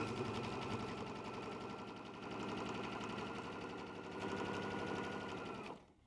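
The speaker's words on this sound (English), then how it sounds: "we're going to sew a seam all the way down the long side of our fabrics" A sewing machine runs a long straight seam down the side of fabric for a hair scrunchie, a close, steady rapid stitching whir that stops abruptly near the end.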